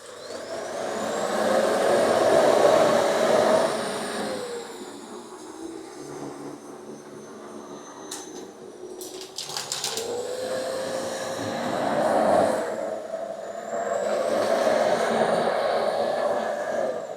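A Shark Transformer vacuum cleaner runs steadily on the floor with a loud droning motor whine that dips and swells as it adjusts to different surfaces, with a few brief clicks partway through.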